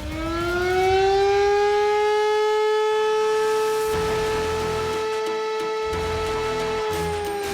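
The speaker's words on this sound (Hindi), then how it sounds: "सायरनों से दहशत।" Air defense civil-defense siren wailing in Kuwait during missile attacks, a single loud sustained rising tone that holds steady for several seconds with strong harmonics, no voices.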